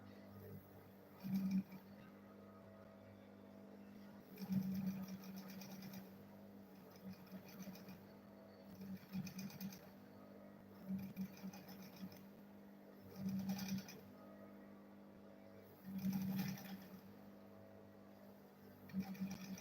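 A sewing machine stitches along the side of a handmade file bag in several short, steady bursts separated by pauses, quiet and close with no talking.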